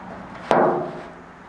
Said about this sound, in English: I'm going to get that hammered down just a little bit more.